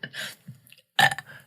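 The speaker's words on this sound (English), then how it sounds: "Okay, you made yourself burp." A person burps, with a short, low gurgle at the start and a louder, sharper belch about a second later. Both are close and dry, with a brief silence between them.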